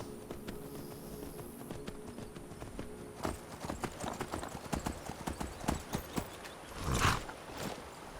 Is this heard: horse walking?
yes